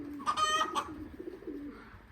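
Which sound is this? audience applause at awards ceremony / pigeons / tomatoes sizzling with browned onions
pigeons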